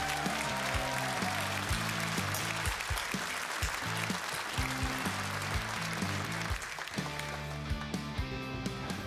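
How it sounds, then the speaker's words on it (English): An audience at the U.S. Astronaut Hall of Fame induction ceremony applauds the astronauts. The clapping is sustained and dense through the whole stretch, with music playing beneath it throughout. "Let's have one more round of applause for our U.S."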